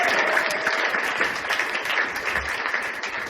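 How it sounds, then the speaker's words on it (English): An audience applauds for Sarah at a comedy show, a dense, steady wash of clapping that carries on evenly from start to finish. "let's applaud for Sarah"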